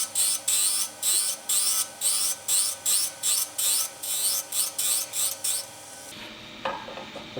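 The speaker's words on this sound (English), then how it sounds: "I'm just turning down to that bushing." Stainless steel honey dipper blank turned on a lathe, a tool scraping in regular rhythmic passes, about a dozen close rasping strokes, followed by a lower rough hum with no talking.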